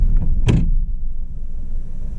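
A car seat in a Suzuki Ertiga slides back with one short mechanical clunk, over a low steady hum inside the vehicle.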